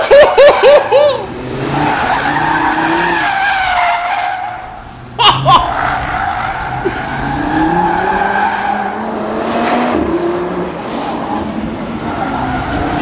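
A 2023 Audi RS3 brakes hard on a race circuit, its tires squealing and skidding in sharp bursts over engine noise, while people talk and laugh close by.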